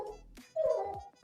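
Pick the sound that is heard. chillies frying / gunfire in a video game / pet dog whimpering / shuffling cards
pet dog whimpering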